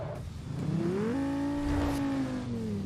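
Synthesized car engine revving in a self-made racing video game, its pitch climbing steadily in a loud continuous drone with a brief rush in the middle, with no voices.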